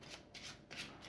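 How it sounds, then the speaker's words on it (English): Cards from the Legendary Encounters: Predator board game being shuffled, quiet repeated riffling bursts in a steady rhythm, close and faint, with no voices. "And now it's time to shuffle again, so let's do it quickly here."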